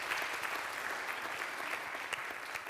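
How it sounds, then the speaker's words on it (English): An audience at a research infrastructures panel claps steadily after a speaker's talk, a dense, even wash of applause from a moderately distant crowd that holds throughout without speech. "A round of applause for Jeroen, please."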